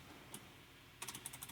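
Several quick, light keystrokes on a computer keyboard come in a short burst after a near-silent pause, with one isolated tap earlier; faint and close, with no talking.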